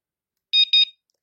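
A Sedea home alarm system gives two quick electronic beep bursts, close and clear, after a short silence.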